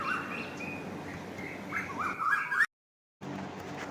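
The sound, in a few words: myna bird call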